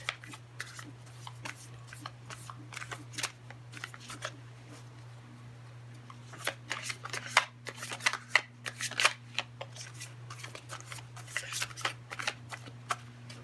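Tarot cards being shuffled by hand, a quiet, close series of crisp riffling flicks and taps that grows busier midway, over a low steady hum.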